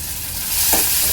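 Onion and green chili sauté in hot oil, a loud, dense sizzle that brightens briefly near the middle as the pan is stirred, all at close range with no speech.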